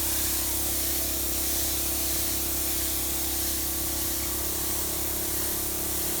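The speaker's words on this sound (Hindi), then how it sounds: "तो मैं फिर ओवरऑल पूरे बम्पर को ऐसे एक कोट लगाऊंगा, ये लग रहा है कोट, लेकिन दूर रख के।" A spray gun lays a paint coat onto the bumper of a 1996-2000 Honda Civic being restored, a loud, continuous pressurized hiss that holds steady close by throughout with no talking.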